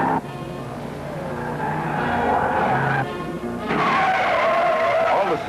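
Car tires squeal during high-speed cornering, a loud rising screech over engine roar that breaks off briefly and then resumes even stronger.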